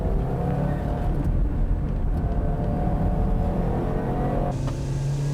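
A Nissan Skyline GT-R driven on a track, heard from inside, holds a steady engine drone that rises slightly and then drops as the throttle eases near the end.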